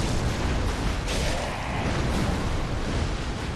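Great chaos fireworks pyromancy erupts in Dark Souls 3 as a continuous, loud roar of fiery explosions, with rumbling blasts packed tightly together and no pause throughout.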